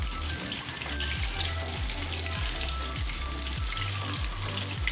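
Coated chicken wings deep frying in hot oil give a steady, loud, dense sizzle and crackle that runs without a break, with soft rhythmic low thumps underneath and no voices.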